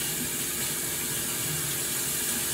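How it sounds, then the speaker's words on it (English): Tap water runs in a steady, continuous hiss and splash while hands are washed during cooking preparation at a kitchen sink. Close and alone, with no voices. "I definitely have to wash my hands."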